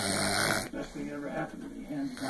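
A person snoring in a bedroom at night, a loud, rasping snore for the first half second, followed by softer repeated breathing snores with rhythmic low rumbles close to the mic.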